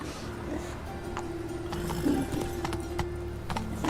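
Roach the horse from The Witcher 3 clip-clops along at a steady pace, hoof beats close and regular over a low ambient game score.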